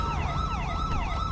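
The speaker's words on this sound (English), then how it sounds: "I'm gonna keep hearing this siren." A police car siren in GTA 5, a wailing up-and-down electronic tone that cycles rapidly and evenly, loud and steady over a low engine rumble.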